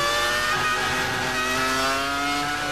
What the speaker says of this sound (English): You could just hear how the traction control cuts in through the second part of that Ascari chicane as he gets back on the throttle